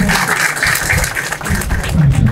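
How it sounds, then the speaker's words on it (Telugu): An audience at a meeting of Telangana RMP and PMP doctors claps to welcome Professor Kodandaram, a dense, loud burst of applause that runs throughout with a voice faintly underneath. "ప్రొఫెసర్ కోదండరామ్ గారికి మన చప్పట్ల ద్వారా"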